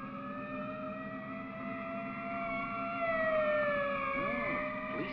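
An ambulance siren wails in long rising and falling tones, steady and fairly loud, with faint traffic underneath and no talk, in a 1949 film scene.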